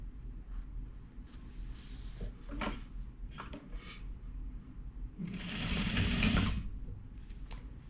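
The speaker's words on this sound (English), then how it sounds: "Just good enough for me to sew this piece on." A sewing machine stitches triangle hexie quilt pieces in short quiet bursts, then one louder sustained run of stitching near the end, with light fabric handling in between.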